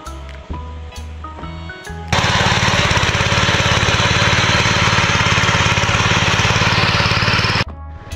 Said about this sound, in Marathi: तर आत्ता तर ट्रॅक्टर लागलेलं आहे आपल्या मागच्या साईडला